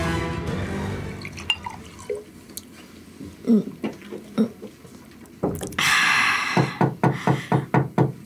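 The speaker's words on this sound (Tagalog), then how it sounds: "Siguradong si Fred na naman ang kumakatok ngayon" Knocking on a door at night in a horror setting, a string of sharp, evenly spaced knocks that grows louder and quicker toward the end, with no voices.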